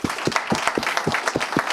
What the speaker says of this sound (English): Can we clap it up for her as well?